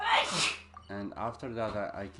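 A single sharp sneeze bursts out at the start, followed by a person speaking.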